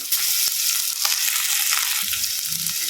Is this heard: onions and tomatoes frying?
yes